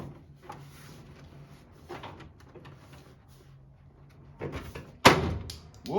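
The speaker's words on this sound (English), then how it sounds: "I didn't realize the door lock would be the biggest pain in the butt." Car door lock on an old farm truck being worked on during an interior repair, with faint tinkering and soft knocks, then a couple of loud clunks near the end as parts shift.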